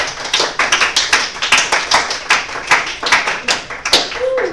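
A small classroom audience claps for a few seconds, a loose run of uneven close hand claps, with a brief voice near the end.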